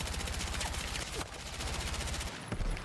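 Full-auto gunfire in the video game Battlefield 6: a dense, continuous burst of rapid shots, loud and close, with a short pause near the end before the firing picks up again.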